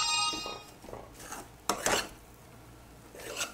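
Grated coconut and dry fruits being stirred in a pan for dry fruit ladoos: soft, scattered scrapes and light clinks of a spoon against the pan, with a couple of brighter scraping strokes in the middle and near the end.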